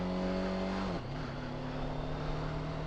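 A TVS Apache RTR 310 motorcycle cruises on an open road, its engine holding a steady drone that dips in pitch with a gear change near the start and then settles, with constant wind rush and no talk.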